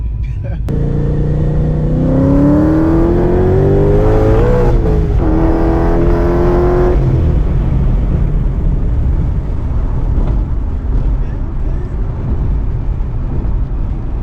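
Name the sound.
supercharged Ford Mustang accelerating in a hard pull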